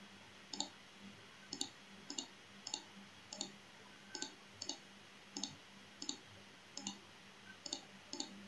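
Computer mouse clicking while digitizing shapes in ArcMap software, about fifteen sharp, close clicks spaced irregularly, some in quick double-click pairs, over a quiet background with no talk.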